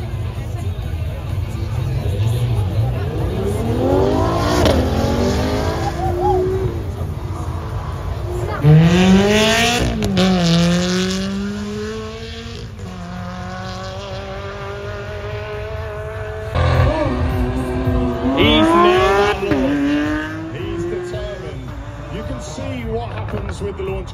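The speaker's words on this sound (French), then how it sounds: "The launch control is holding the car to this at the optimum moment and then letting it go." Race car launching under launch control at a packed street event, the engine revving and climbing through several rising sweeps with short gaps between them, loud and close, over crowd babble and talk.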